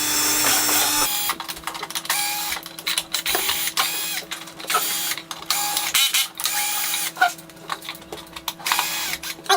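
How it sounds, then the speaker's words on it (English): Mechanical whirring bursts from two power drills removing screws with a 2mm hex driver from a Traxxas UDR RC car body, starting and stopping repeatedly with short clicking pauses, close and fairly loud with no talking. "We got 2 drills. Double drill!"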